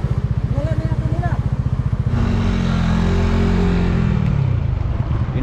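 Motorcycle engine running and revving after a day of conditioning the bikes for the Taiwan Loop, a steady close-up drone with pitch shifts and a voice talking over the opening seconds.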